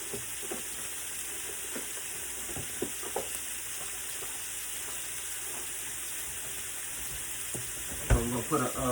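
Strips of steak sizzling in a pan for a stir fry, a steady hiss with scattered pops and crackles, ending in a louder burst of clatter and spatter near the close.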